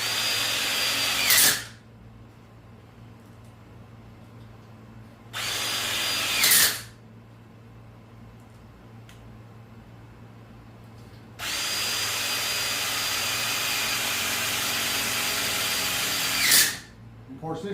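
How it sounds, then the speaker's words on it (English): A Craftsman 20-volt cordless impact driver drives screws into connectors in three close, loud bursts: two short ones, then a longer run of about five seconds, with quiet gaps between them. "Craftsman impact driver, 20 volt"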